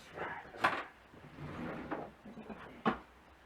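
A wooden drawer is pulled open with a short knock, followed by another sharp wooden clunk a couple of seconds later, close by in a quiet room with faint background movement.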